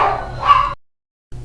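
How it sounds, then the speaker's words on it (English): Dog barks in a short burst, fairly close and loud, then the sound cuts to silence before a brief noise resumes at the end. "Dogs."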